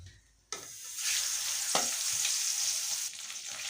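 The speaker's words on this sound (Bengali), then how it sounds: "আমি বাকি মাছগুলোও ভেজে নেব।" Near-quiet opening, then the remaining tengra fish drop into hot oil and a loud, steady sizzle erupts, with a sharp clatter partway through and crackling spatter continuing to the end.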